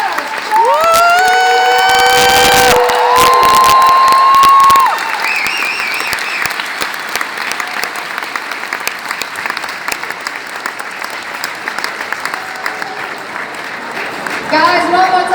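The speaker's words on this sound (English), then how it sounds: "Guys, a round of applause." Loud convention audience applause for Charlie Sheen at a panel, with cheering and whoops, strongest in the first few seconds, then settling into steady clapping that swells again at the end.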